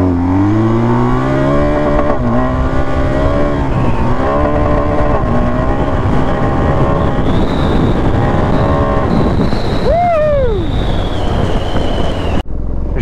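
A 1250 motorcycle accelerating on a rough, muddy off-road track, its engine loud and close, climbing through repeated revs and gear changes with rising and falling pitch before cutting off abruptly near the end.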